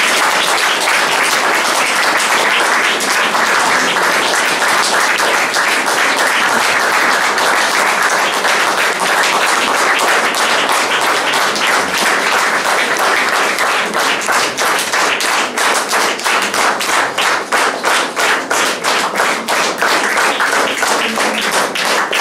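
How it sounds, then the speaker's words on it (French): A church congregation at a Mass celebrating St Bruno at a charterhouse applauds loudly and steadily for over twenty seconds, a dense roar of many hands with the clapping growing more distinct and rhythmic toward the end. "Ils vont applaudir très fort dans quelques instants."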